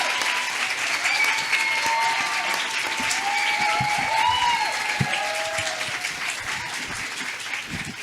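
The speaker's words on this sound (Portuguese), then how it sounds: "Vocês têm razão com o aplauso" An audience in a university lecture hall applauds steadily at the opening conference, a dense, sustained wash of clapping that holds at an even level for the whole stretch with no voices over it.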